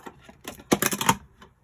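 Cardstock for a stamped card is trimmed in a quick, faint burst of crisp clicks and snips, clustered tightly over about a second in an otherwise quiet room.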